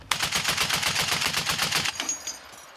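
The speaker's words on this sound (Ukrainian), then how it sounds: "Постріл." A rapid burst of automatic gunfire at a front-line infantry position, about twenty sharp shots in quick, steady succession, loud and close, then trailing off into fading echo.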